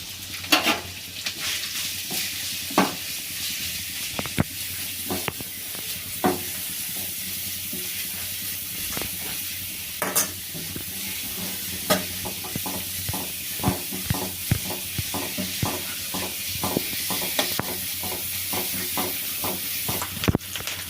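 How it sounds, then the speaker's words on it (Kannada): Chopped cabbage sautés in a little oil in a pan with a soft, steady sizzle. Repeated spatula strokes scrape and clack against the pan in an uneven rhythm throughout. "ಕ್ಯಾಬೇಜ್ ಸ್ವಲ್ಪ ಹುರ್ಕೊಳ್ಳೋಣ."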